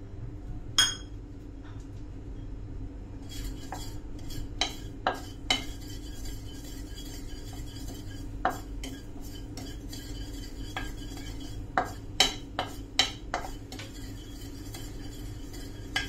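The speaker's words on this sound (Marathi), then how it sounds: "मी पहिले खसखस भाजून घेते" Poppy seeds are dry-roasted in a pan and stirred with a metal spoon, producing repeated sharp clinks and scrapes against the pan over a faint low background, with no talk.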